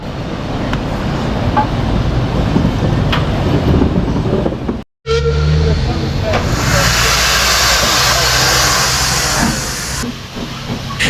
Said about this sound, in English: Today's main service train is led by this sprightly saddle tank loco number 68067.